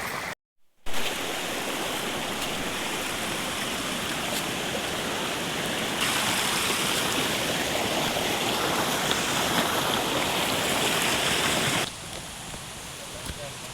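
Water pours steadily from a pipe in a remote village in Karbi Anglong, Assam, making a loud, continuous rushing splash close by that lasts the whole clip.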